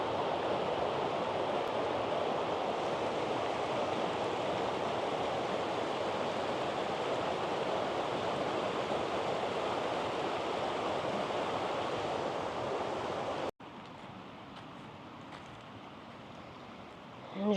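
A wide mountain stream swollen with springtime flow runs through the woods, a loud steady rushing roar that drops off abruptly near the end and continues at a lower level.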